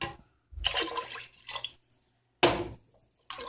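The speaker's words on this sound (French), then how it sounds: "On a rajouté exactement 6 verres de l'eau." Water poured in short splashing bursts into a pot while making Turkish red lentil soup, three or four separate pours with quiet gaps between, close and moderately loud.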